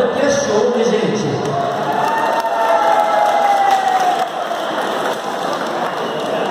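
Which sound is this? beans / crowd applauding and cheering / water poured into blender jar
crowd applauding and cheering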